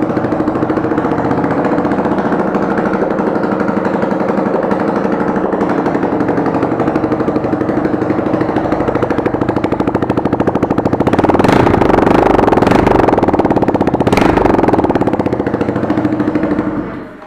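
A Honda CG motorcycle fitted with a 2018 Twister engine and no exhaust runs inside a shop, a loud, raw, rapid staccato idle that swells louder and rougher partway through.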